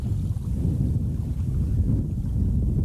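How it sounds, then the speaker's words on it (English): Strong wind buffets the microphone in a continuous low roar, with the faint sense of open water around it. "It's unbelievable, windy."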